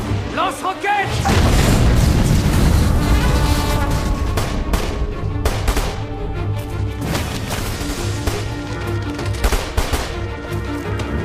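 In a war film battle scene, a rocket launcher fires amid a dense barrage of booming blasts and rattling gunfire, loud and continuous throughout, with shouted voices mixed into the chaos.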